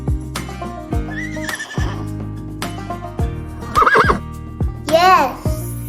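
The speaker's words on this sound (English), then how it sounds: "What sound does a horse make?" A horse whinnies twice in high, wavering neighs near the end, set against a bouncy music bed, with a voice speaking earlier.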